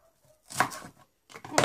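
Onion is chopped in a manual pull-cord food chopper, giving two short bursts of whirring, chopping clatter separated by a brief pause.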